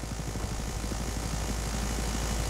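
A Black Hawk helicopter in the video game BattleBit Remastered drones steadily with a low, continuous engine and rotor rumble, moderately loud and unbroken throughout.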